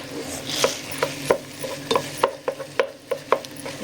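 A spatula scrapes and taps through mashed boiled potatoes and onion in a pan, about a dozen rhythmic strokes with light clinks, near and clear over a faint sizzle.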